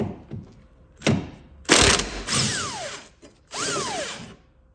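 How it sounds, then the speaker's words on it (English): An impact gun removes 17 mm upper shock bracket bolts on a Lotus Elise S1 during a rear suspension refresh, firing in four close, loud bursts of rattling hammering separated by brief pauses, with no talk. "Just gonna remove these with the impact gun."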